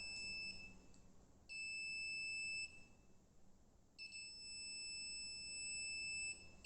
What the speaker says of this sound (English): as you can see, it beeps when I put this in front.